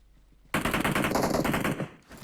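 Rapid automatic gunfire in an online battle game bursts out loudly after a quiet moment, a sustained fast-rattling volley lasting about a second and a half before cutting off.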